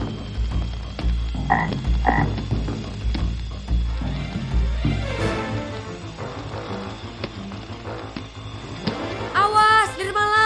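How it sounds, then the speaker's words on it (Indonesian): A cartoon frog from a big forest, a dragonfly predator, croaks repeatedly over a busy animated soundtrack of music and effects, with a chirping, warbling flourish near the end. "Itu katak hewan predator capung."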